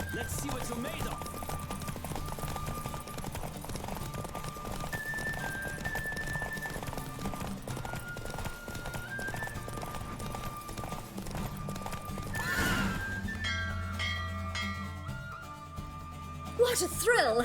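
A horse gallops in The Witcher 3 video game, its hoofbeats a steady, rapid clip-clop under a soft musical backdrop, with a sharper burst of hooves and a whinny near the end.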